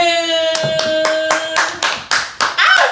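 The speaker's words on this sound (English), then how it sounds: "keep clapping" Several sharp hand claps ring out in a quick irregular burst, close and loud, following a sustained musical tone that fades out as the clapping begins.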